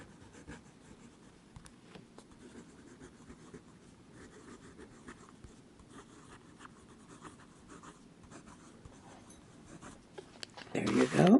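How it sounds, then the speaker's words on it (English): A TWSBI 580 fountain pen nib scratches across paper in soft, quiet strokes over faint room noise, ending in a louder rustle near the end. "Now we'll do some writing."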